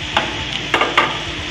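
Ginger, garlic, tomato and ghost pepper hit a hot pan beside onion for Assamese pork with laai saak, giving a steady sizzle with a few sharp stirring scrapes, close and alone.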